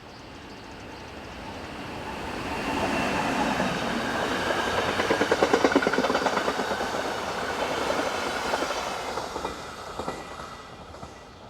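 Swiss locomotive number 650, heading the 0658 from Chur to St. Moritz, rolls past Razuns station, a swelling rumble with rhythmic clickety-clack of wheels peaking mid-pass and slowly fading, no voices.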